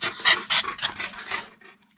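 A large dog pants close to the microphone in quick, rhythmic breaths that fade out near the end, with no voices.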